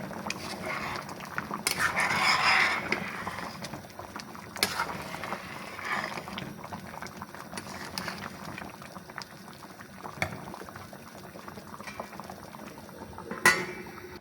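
A pot of Turkish celery stew boils steadily, with a continuous bubbling simmer and occasional clicks and knocks from the pot, close and moderately loud with no talk.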